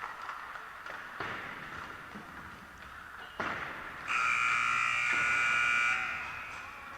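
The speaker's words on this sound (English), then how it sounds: "You guys all heard the horn? That means business." End-of-warm-up horn in an ice hockey arena at a college club game blares loud and sustained for about two seconds, preceded by scattered puck and stick knocks and faint crowd murmur.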